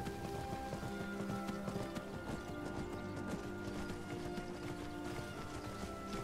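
A horse walks through brush in Skyrim, steady clip-clop hoofbeats under game ambience and music, continuous and moderately loud with no talk.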